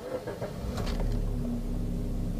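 A 2013 Suzuki Splash with automatic transmission starts up: a brief starter crank, then the engine catches and settles into a steady low idle hum, close and alone.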